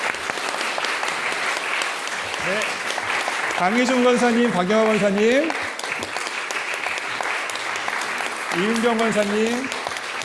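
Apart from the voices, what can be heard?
church congregation applause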